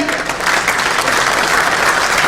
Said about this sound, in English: Can you all please clap for him?